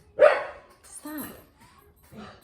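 A dog barks sharply once up close inside a garage, then gives a few softer barks and whimpering yelps, with people talking around it.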